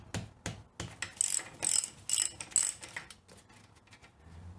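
A ratchet wrench works a 19mm tie rod nut loose on a Toyota axle, a close series of quick ratcheting clicks in short bursts that fades to quieter handling sounds at the end.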